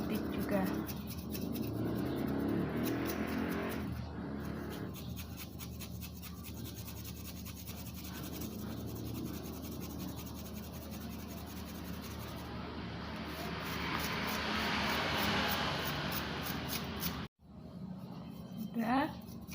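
Object being rubbed steadily for about thirty seconds in a static electricity experiment, a continuous close scraping friction that runs almost the whole time, with a short break near the end.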